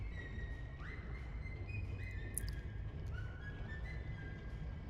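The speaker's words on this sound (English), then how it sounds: "We hear the ink machine and whistling" Eerie whistled melody in the Bendy and the Ink Machine video game, a few clear sustained tones drifting over the low rumbling ambient hum of the ink machine.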